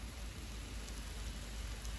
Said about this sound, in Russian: Вот уже капля собралась на сетке. Это как дождик получается,